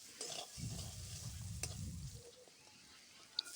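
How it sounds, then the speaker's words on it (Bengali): Spice paste with chilli powder fries in a pan for fish curry with cauliflower, giving a soft sizzle, with a spoon scraping and stirring in a low rumbling burst and a sharp tap near the end. "মশলাটা ভাজা ভাজা হয়ে গেছে"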